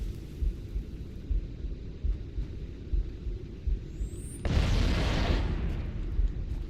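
A grenade explodes in Halo CE: a low rumbling game background with soft thuds gives way to a sudden loud, broad blast that lingers as a roaring wash for a couple of seconds.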